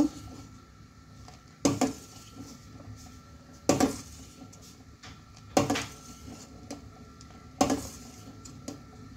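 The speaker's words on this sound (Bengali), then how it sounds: "এবার দেখুন দুধটা এইভাবে নাড়তে নাড়তে দুধটা ফুটতে লেগেছে।" A spoon knocks against a pot while boiling milk is stirred for chhanar payesh with date-palm jaggery, four sharp metallic clanks at roughly two-second intervals over a quiet low simmer, close by, no talking.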